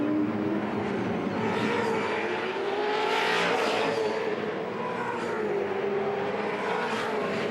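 V8 Supercars racing at the Bathurst 1000 in 2008, with loud, continuous engine roar as cars pass close by, the pitch swelling and fading without any talk over it.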